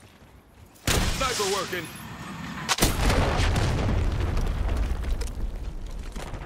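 A frag grenade going off in Call of Duty Black Ops 6: a sudden loud blast followed by a second heavy boom and a long rumbling roar of battle noise, with a radio-style voice speaking under it.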